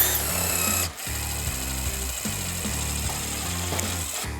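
A Ridgid brushless subcompact driver sinks a screw in bursts of high-pitched motor whine, with a brief stop near the start and then stuttering pulses, close and loud with no talk.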